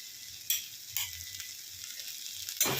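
Soya chunks fry in a pan with a steady soft sizzle, broken by several sharper stirring scrapes and clatters at intervals, heard up close.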